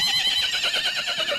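A horse neighs in a long, loud, quavering whinny that wavers rapidly up and down, heard close and alone without talk.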